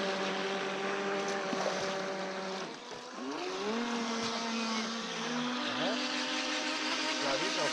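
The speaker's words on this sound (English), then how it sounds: "Boat burnout." A motorboat engine roars and revs up and down, its pitch sliding and wavering steadily, with wind and water noise beneath and a voice briefly heard.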